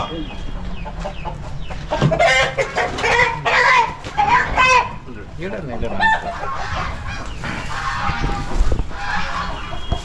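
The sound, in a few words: chicken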